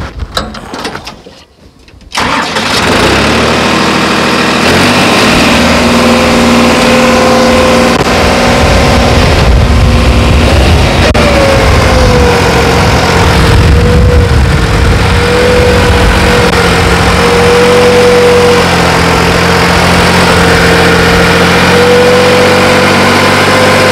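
A New Holland 3630 tractor engine idles steadily at about 1500 rpm, a loud, continuous mid-range drone with a faint whine rising partway through, close by and alone after a brief rustle at the start.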